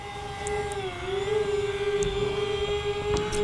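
The brushless motor of a JJRC M02 VTOL RC plane throttles up into a high, steady whine that dips briefly, then holds strong and close, with faint outdoor background.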